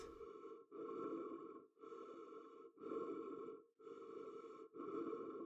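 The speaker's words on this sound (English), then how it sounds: "Breathing sound is disturbing." Heavy, rasping breaths in the video game Outer Wilds come in slow alternating inhales and exhales, six drawn-out pulses separated by short silent gaps, close and isolated.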